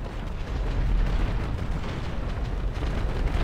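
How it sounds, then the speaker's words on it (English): Bombs explode in a video game, a dense continuous rumble of heavy booms and bursts dominated by deep low-end, loud and sustained for several seconds with no talk over it. "He's dropping off bombs!"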